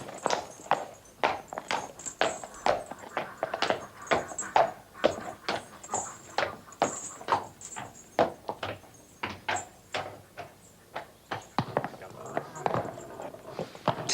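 Hooves of a chestnut brown draught horse clip-clop steadily on hard ground in a farm setting, a brisk, close, even rhythm of sharp knocks with faint background noise.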